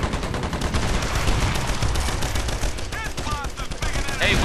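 Gunfire from the video game Earth Defense Force comes in rapid, dense bursts of automatic shots. The shooting is loud and continuous across the moment, with a few brief whistling effects near the end.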